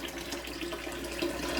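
Water rushing steadily into a Kohler Highline Curve toilet after its flush lever is pulled up, a constant close hiss and splash with no talk.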